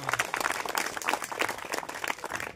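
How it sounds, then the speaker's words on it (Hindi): An audience at a school award ceremony at an education centre breaks into lively applause, with dense, close clapping that rises and falls for a couple of seconds. "सबसे पहले जोरदार तालियां हो जाए।"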